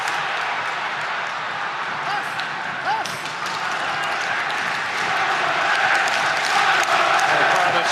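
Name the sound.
football stadium crowd noise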